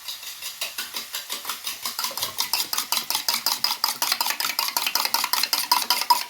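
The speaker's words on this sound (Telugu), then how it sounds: "దీన్ని ఎంత బీట్ చేస్తే అంత పొంగుతుందంట" Batter beaten briskly in a bowl, a fast, even run of sharp clinking strokes of utensil against the bowl, close and loud, the pace quickening slightly and continuing without pause, with no speech.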